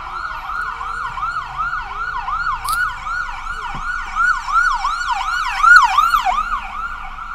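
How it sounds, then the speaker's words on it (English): A wailing American Medical Response ambulance siren passes on a city street in Seattle's South Lake Union, loud and close, its rising-and-falling wail swelling as it nears and continuing steadily over faint traffic noise. "AMR, America Medical Response. I'm sorry that was kind of loud, but I left it open so y'all can hear it"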